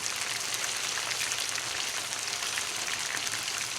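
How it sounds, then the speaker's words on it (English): Chicken sizzles in a hot pan, a dense, even crackle and hiss that stays constant throughout, with no voices. "yeah, it's frying"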